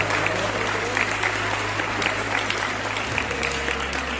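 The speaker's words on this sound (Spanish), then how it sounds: "Un aplauso para ella." An audience applauds teachers at a school recognition ceremony: steady, even clapping from a crowd over a low hum, lasting the whole moment without a break.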